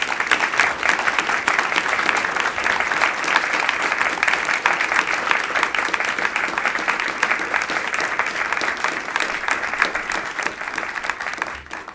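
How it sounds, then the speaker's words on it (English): A large audience applauds panelists at a NASA event, a dense, steady wash of clapping that holds strongly for several seconds before beginning to fade slightly. "Ladies and gentlemen, please give a round of applause to our panelists today."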